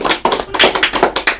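A quick run of about seven sharp hand claps in a loose, uneven rhythm, close and fairly loud, with no voices.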